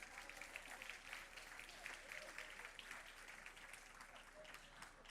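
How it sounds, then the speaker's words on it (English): Audience applause for an honoree at a school board meeting, a steady wash of many hands clapping that stays fairly faint and distant from start to finish. "Please give Karen another round of applause"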